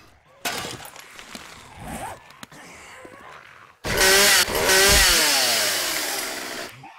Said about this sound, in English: That's what I get for using the chainsaw in combat.